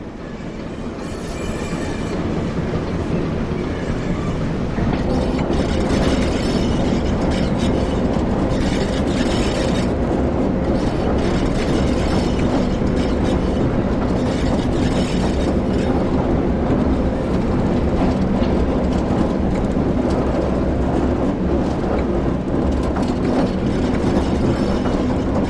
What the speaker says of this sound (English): With the train now moving, it's possible to apply more power